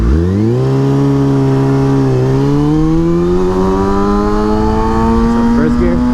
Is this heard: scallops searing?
no